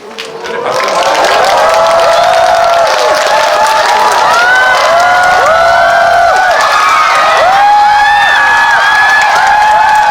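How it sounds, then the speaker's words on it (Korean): A packed cinema audience at a Korean film screening and Q&A claps and cheers steadily as the director and cast walk in, loud sustained applause with scattered whoops and shouts running throughout. "네, 박수."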